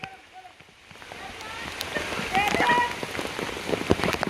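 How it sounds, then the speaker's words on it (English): Rain patters steadily on a surface during a toy duck race, swelling from faint to a dense, crackling drizzle with scattered louder drops. "here we go, it's raining"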